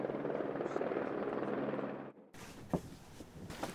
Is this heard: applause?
no